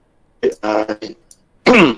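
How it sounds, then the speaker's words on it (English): A man clears his throat in a few short, harsh rasping bursts up close, followed by a louder voiced burst at the end. "Clearing my throat."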